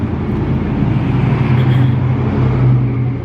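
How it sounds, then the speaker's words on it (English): A heavy vehicle engine rumbles loudly and steadily throughout, with a deep low drone and traffic-like noise, no voices. "everybody has a loud truck here too"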